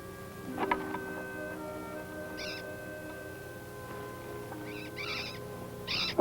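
Two adult owls near a large burrow call in short, raspy bursts, a few spaced hoots and chatters over a quiet outdoor background.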